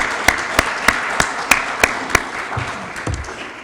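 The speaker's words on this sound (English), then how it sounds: "Let's give her another round of applause." An audience at the YWCA Women of Inspiration Elite Awards in Genesee County gives a round of applause, with a string of sharp, regularly spaced claps standing out before the clapping thins and fades.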